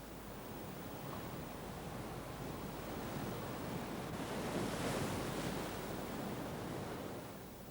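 Ocean waves wash against a rocky shore where normally submerged algae is exposed. A continuous roar of surf mixes with wind noise and swells slightly louder midway through.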